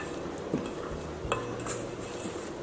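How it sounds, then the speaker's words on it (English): A spatula scraping the sides of a mixing bowl of carrot cake batter, with soft wet scrapes and a few light clinks against the bowl, close and fairly quiet, no voices. "scraping the sides of the bowl"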